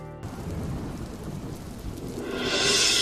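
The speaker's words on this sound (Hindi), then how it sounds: "बाहर कितनी सुंदर बारिश हो रही है" Heavy rain pouring outside with a rumble of thunder, a dense steady wash that swells louder toward the end, with no voices.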